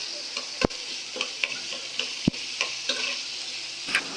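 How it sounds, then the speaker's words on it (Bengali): Onions frying in oil in a home kitchen pan, a steady bright sizzle with sharp pops and ticks scattered through it, close and fairly loud with no voices. "এই যে আম্মু ভালো করে এখন পেঁয়াজগুলো ভেজে নিতেছে"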